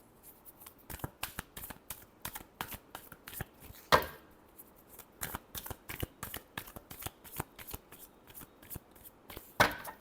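Tarot cards are shuffled by hand in quick, crisp riffles and slaps, a sharp irregular series of close taps with a couple of louder bursts, heard alone without talking.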